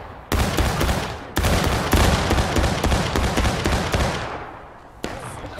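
Musket volleys in the War of Rights game ring out as dense, loud ragged bursts of many overlapping shots, several separate volleys with crackling fire between them and shouting in the background.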